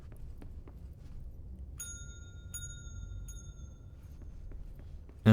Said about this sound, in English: And the bell just rings